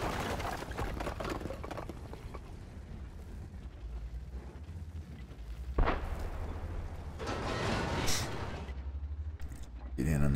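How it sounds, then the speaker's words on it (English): A tank cannon firing in a tank battle video game, where a 60TP heavy tank takes a shot: one sharp boom near the middle, heard over a steady engine rumble, with someone talking throughout. "takes a shot from the 60 TP"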